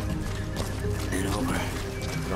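Horse hooves clopping with a brief neigh in the video game Metal Gear Solid V, rhythmic steps heard under someone talking.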